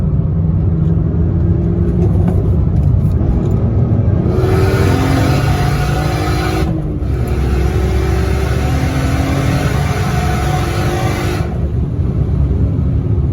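A car engine pulls hard under acceleration, a loud, sustained rising roar with a brief dip where the revs drop between gears before climbing again, heard from inside the cabin.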